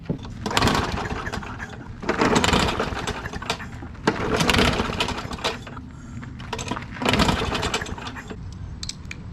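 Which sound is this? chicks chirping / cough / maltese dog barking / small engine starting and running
small engine starting and running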